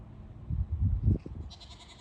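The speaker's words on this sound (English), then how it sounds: "Neighbor's goats are making a ton of noise this morning." A neighbor's goats bleat in a noisy outdoor setting in the morning, a few rough calls over low rumbling background, with higher bleats toward the end.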